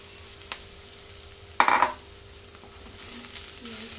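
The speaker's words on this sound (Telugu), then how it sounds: "ఒక 10 సెకండ్స్ అలా కొద్దిగా ఫ్రై చేసుకుందాం" Sprouts fry in a pan with a low background sizzle, broken by one loud metallic clink and scrape of a spoon stirring against the pan, then quieter frying.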